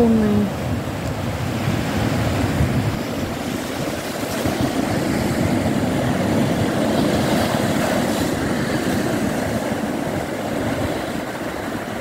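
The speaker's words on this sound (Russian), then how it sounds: "Волны." Ocean waves at sunrise wash steadily onto the shore, a loud continuous surf roar with wind noise across the whole stretch.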